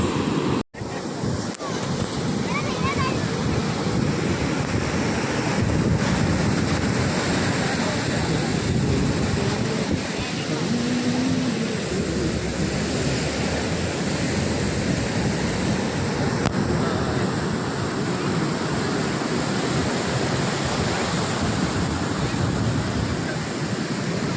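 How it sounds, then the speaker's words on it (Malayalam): Sea waves wash continuously onto Chaliyam Beach, a dense, steady roar of surf mixed with strong wind buffeting the microphone from start to finish, with no clear voices over it. "നല്ല തിരമാലുണ്ട്"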